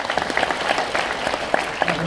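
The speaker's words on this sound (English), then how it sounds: "round of applause for that answer" Audience applause at a Fan Expo 2015 question-and-answer session with Tom Felton, a steady, fairly close wash of clapping lasting about two seconds.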